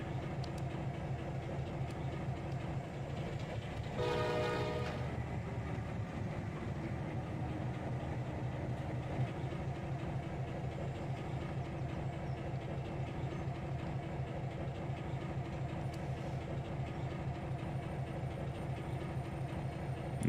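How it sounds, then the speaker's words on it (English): A train in the Trainz Simulator World Tour game on Xbox passes in the distance, a steady low rumble with faint rhythmic clatter running unbroken for about twenty seconds, with no talk. "I'm sure I can hear a train somewhere."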